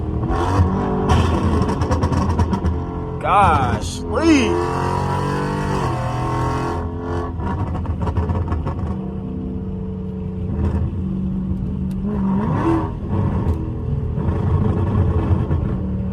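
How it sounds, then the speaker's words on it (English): A tuned SRT 392 V8 engine revs and drops through a downshift, pitch sweeping up then settling into a steady drone; a voice briefly speaks under the motor. "Listen to this downshift."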